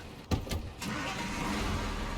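A truck engine in the game Snowrunner cranks over with a few sharp starter bursts, then catches and settles into a steady, moderately loud idle rumble.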